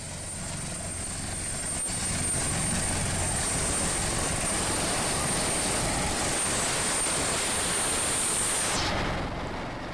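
A search-and-rescue helicopter flies over a flood- and landslide-hit area of Luwu, South Sulawesi, its rotors a loud, steady roar with a thin high whine that drops away near the end.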